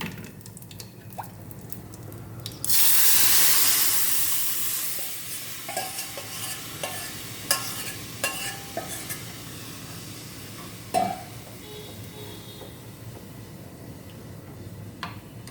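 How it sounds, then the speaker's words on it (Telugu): Tempering spices hiss and crackle in hot oil in a pan for pongal sambar, starting with a loud burst of sizzling that settles into steady frying with scattered sharp pops and clicks. "చూశారు కదా పోపు గాలింది."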